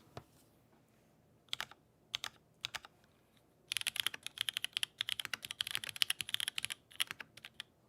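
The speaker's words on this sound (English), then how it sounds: "This is a Seal80 with an aluminum plate and MX2A oranges with" Custom Seal80 keyboard with aluminum plate, MX2A orange switches and GMK keycaps being typed on: a few isolated clacks, then a sustained burst of rapid, crisp keystrokes, close and clear with no talking.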